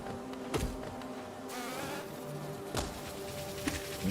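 Big bees buzzing in the Hive area of the video game Hollow Knight, a steady droning hum lasting throughout at low volume, broken by a few faint knocks, with no speech.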